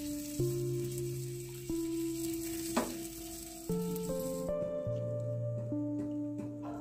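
Sandwich bread roasting in a pan gives a steady, close sizzle that continues throughout, mixed with tonal background music.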